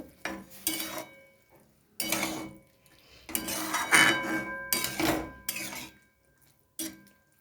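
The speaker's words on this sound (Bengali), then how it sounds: "এবার আমি সেদ্ধ করা ছোলার ডালটা ঢেলে দিচ্ছি। মশলাটার সাথে মিশিয়ে নেব।" Boiled chana dal poured into a pan of cooked spices and stirred with a utensil, giving close, intermittent bursts of scraping and clattering separated by short pauses.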